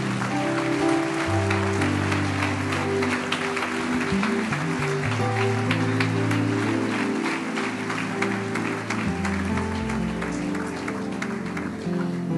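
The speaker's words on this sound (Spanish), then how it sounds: "Dele fuerte ese aplauso al Señor." Congregation applause in a Spanish-language church service, steady hand clapping running throughout over sustained keyboard and bass music, full and fairly loud.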